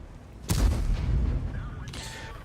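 A tank cannon fires in the World of Tanks video game: one sharp, booming shot that rings out and decays over about a second, followed by fainter mechanical game sounds.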